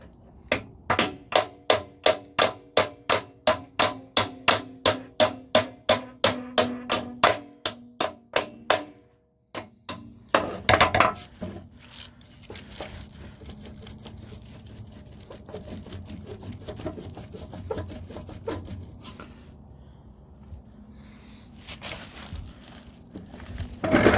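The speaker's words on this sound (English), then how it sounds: "see if we can tap it out with a hammer." Rapid run of sharp metallic hammer taps knocking a stuck part loose on a Haban pull-behind mower, about twenty evenly spaced close blows, then a pause and scattered clanks and rattling as the part works free.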